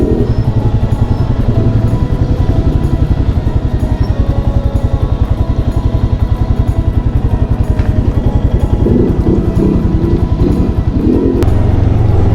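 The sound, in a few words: Royal Enfield Himalayan motorcycle riding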